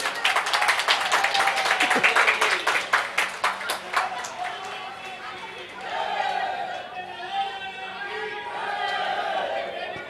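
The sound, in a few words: crowd clapping to welcome guests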